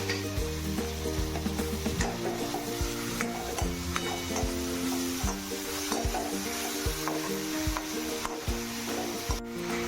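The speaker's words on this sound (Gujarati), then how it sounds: "હવે આપણે આદુ અને લસણની પેસ્ટ નાખીશું અને થોડા કાપેલા લીલા મરચાં નાખીશું। હવે આ બધુંને આપણે થોડા શેકાવા દઈશું।" Ginger-garlic paste and chopped green chillies sauté for sev usal, with a steady loud sizzle and repeated scrapes and clinks of stirring throughout, no voices.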